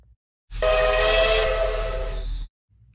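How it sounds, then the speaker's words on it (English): A single sustained toy train whistle blast, loud and close, holding steady for about two seconds before cutting off. "Sebastian's train is ready to go"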